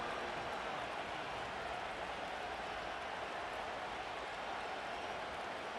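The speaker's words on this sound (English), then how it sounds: "The crowd cranking it up another notch before third and long" Steady roar of a big stadium crowd at a Vikings at Cowboys NFL football game, a dense continuous wash of cheering and noise holding loud and unbroken before a third-and-long play.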